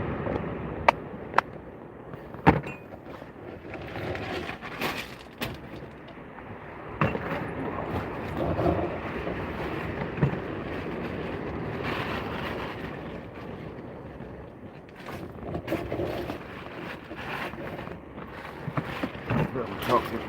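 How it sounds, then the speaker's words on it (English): A deep, steady engine rumble from a huge cargo ship fills the scene, heard from a kayak, with people talking over it and occasional clicks and bumps nearby. "That's one hell of a boat, that's that huge cargo ship."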